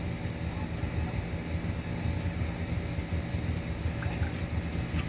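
Vinegar being poured out of a blender jar as a steady, close liquid rush over a low background rumble, with a few faint drips near the end.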